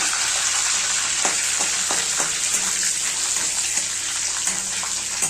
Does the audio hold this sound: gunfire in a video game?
no